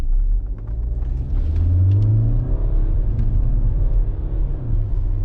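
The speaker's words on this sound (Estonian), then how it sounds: "Vaatame, kas auto suudab kiirendada ka" A BMW F11 estate with the N47 diesel engine accelerates, giving a loud, close low rumble with a rising engine tone that holds steady as the car pulls. No one speaks over it.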